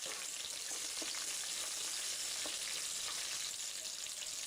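Mint, coriander and curry leaves fry in a pan for coconut rice, giving a soft, steady sizzle with faint stirring scrapes, moderately quiet and unbroken throughout.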